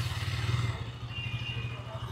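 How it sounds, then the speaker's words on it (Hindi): A KTM Duke 200 motorcycle engine has just started and idles with a low, steady, throbbing putter. It stays close and moderately loud and continues evenly without revving. "इनिशियली आपकी बाइक स्टार्ट हो चुकी है, ऐसी कुछ साउंड है"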